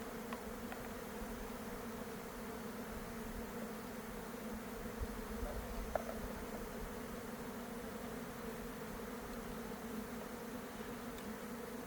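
A dense, steady hum of many bees swarming around a hive goes on unbroken, soft and somewhat distant, with no voices.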